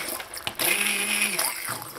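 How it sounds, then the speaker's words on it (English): A hand blender purees soft cooked tomatoes, a steady close motor whir with liquid churning that runs for over a second, bracketed by brief knocks of handling. "I'm going to get my hand blender so that I can process"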